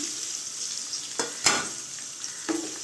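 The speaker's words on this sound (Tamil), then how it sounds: "சிக்கன் சேர்த்து நல்லா கொஞ்சம் கிண்டி விடுங்க" Chicken pieces fry in a pan for pepper chicken, with a steady sizzle and a few scraping stirs of a spoon cutting through, close and fairly quiet.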